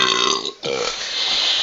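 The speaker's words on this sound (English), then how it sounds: "I can't get the burps out." A man lets out two close burps, a short one followed by a longer, deeper one, loud and near the microphone.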